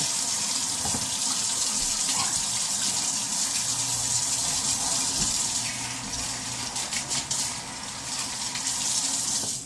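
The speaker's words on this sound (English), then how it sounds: "Just a second while I finish washing my hands." Water runs steadily from a kitchen tap while hands are washed under it, a close continuous gushing splash with small shifts as the hands move through the stream.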